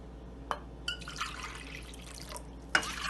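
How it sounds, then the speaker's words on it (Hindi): Water poured into a cooking pot to make syrup for semolina halwa, a soft trickling and splashing with a few brief louder spurts, close by and alone without talk. "पानी डालेंगे।"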